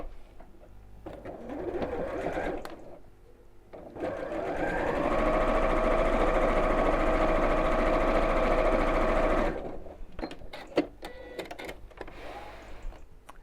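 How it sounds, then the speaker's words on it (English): A sewing machine stitches down the side of a child's backpack pocket in one steady, close whirring run of about six seconds, with shorter bursts and handling clicks before and after. "And then we'll sew down this side of the pocket."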